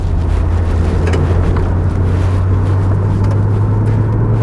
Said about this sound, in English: The Jetex stainless exhaust that was kindly fitted by the previous owner just before he sold it.